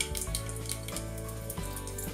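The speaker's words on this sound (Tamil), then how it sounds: "கடுகு வெடிச்சிருச்சு." Mustard seeds crackle and pop in a few teaspoons of hot sesame oil in a cooking pot, a quiet continuous sizzle dotted with small sharp pops.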